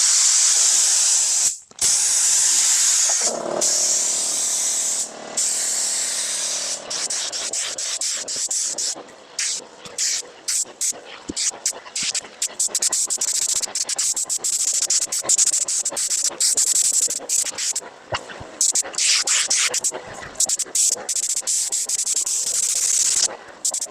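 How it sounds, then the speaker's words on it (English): A loud, sustained hiss of a spray gun spraying paint on a Toyota TA22 Celica in long bursts, broken by short pauses and clicks of the trigger. "Load the gun and get spraying"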